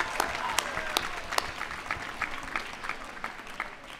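Graduation crowd at a university commencement applauding steadily at a moderate distance, with scattered sharp individual claps standing out from the broad wash of clapping.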